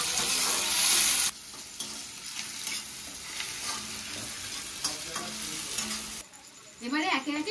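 Chopped tomatoes sizzle and fry with onions in a pan, with bursts of stirring and scraping throughout, close and steady with brief louder moments.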